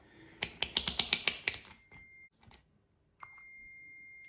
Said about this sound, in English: I first test if my toggle switch works correctly